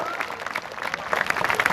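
Audience applause at a two-day youth cultural festival in Mohla, welcoming a guest; steady clapping from a crowd, with voices mixed underneath.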